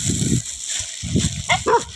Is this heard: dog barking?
yes